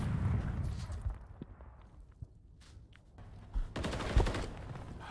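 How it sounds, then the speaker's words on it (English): Bursts of gunfire from a Call of Duty match, a heavy dense volley at the start, sparse isolated shots through a quieter middle, then another loud sustained barrage near the end. "there is gunfire going down because I can hear that"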